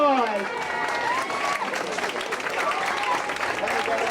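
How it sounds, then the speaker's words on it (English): Staff at a school's tenth-anniversary event receive a round of applause from the crowd, dense clapping mixed with voices and cheering, moderately loud and steady. "Let's give them a round of applause"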